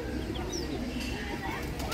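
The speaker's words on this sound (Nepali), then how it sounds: "यता आयो लक्का परेवा" Soft fantail pigeon cooing murmurs low and repeatedly under a constant noisy zoo background, with a few faint chirps above it.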